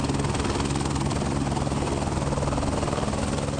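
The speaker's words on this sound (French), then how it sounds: "Moses est à bord de cet hélicoptère afin de faire l'inventaire des castors" A helicopter carrying a beaver-survey crew flies steadily, its rotor chop and engine drone loud and continuous, with a dense pulsing beat throughout and no talk.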